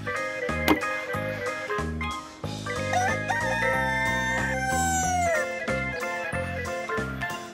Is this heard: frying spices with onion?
no